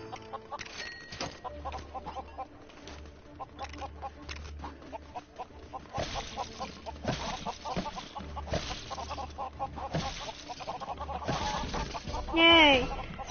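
Chicken clucking in Lego Worlds on PS4, a run of short repeated clucks and squawks over game music and effects, moderately loud, with a louder squawk near the end.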